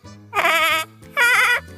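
Two drawn-out, wavering goat bleats voiced by a woman imitating a big goat, each about half a second long with a short gap between, close and clear against near silence.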